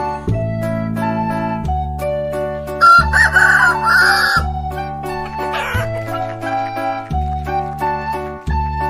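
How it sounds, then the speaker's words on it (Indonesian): A rooster crows once over a bouncy children's song with steady bass and melody, the crow loud and clear in the middle of the music among farm animal sounds. "Ayam."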